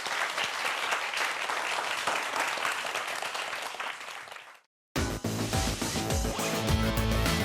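An audience at a popular science lecture applauds to welcome two speakers, with steady, dense clapping that fades briefly to silence before a loud musical sting with a heavy bass beat breaks in.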